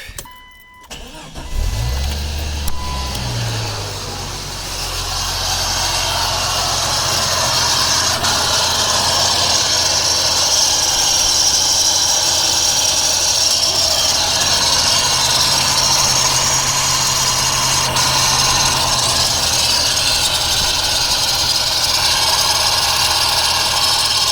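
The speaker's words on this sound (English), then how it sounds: "So the bearing for my AC pulley is going and it's shredding itself" A Jeep Cherokee XJ engine with a failing, self-shredding AC pulley bearing cranks, starts, and settles into a steady, loud idle, with a persistent whirring, grinding whine riding over the low engine drone throughout.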